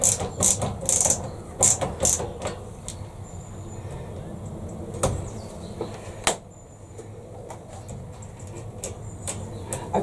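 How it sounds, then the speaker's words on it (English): A ratchet tool works on a garden shed in short bursts of rapid clicking, then scattered taps and knocks over a quiet background, close by with no talk. "Put your ratchet on."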